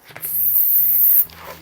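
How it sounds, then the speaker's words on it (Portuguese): A party balloon being deflated for birthday decoration, its air escaping in one loud, steady high hiss for about a second, ending abruptly, with a faint low hum in the background. "Então eu vou retirar um pouco do ar."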